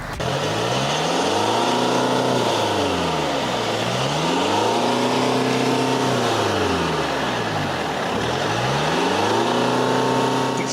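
A Mercedes GLC's 2.1-litre, 170-horsepower diesel engine revs up repeatedly in long sweeping accelerations, rising and falling in pitch, steady and close with no talk.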